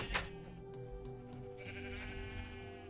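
Sheep in the video game Minecraft bleat once loudly at the start, followed by a steady background of game ambience and music with no voices.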